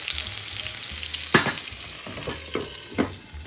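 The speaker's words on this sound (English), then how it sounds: "Look at that beautiful sizzle, beautiful crust." Steady, close sizzling of cod searing in a hot pan, with a few sharper crackles and pops breaking through the frying hiss.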